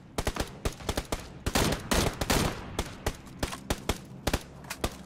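Rapid gunfire in the battle royale video game PUBG Battlegrounds: a string of sharp, close shots in irregular bursts, some clustered into quick volleys, with no talk over them.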